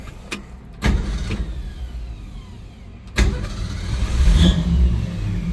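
A 1962 Ford Falcon Ranchero with a three-on-the-tree column shift idles and revs. Two sharp bursts of engine throttle rise over a steady mid-pitched rumble, and there is no talking.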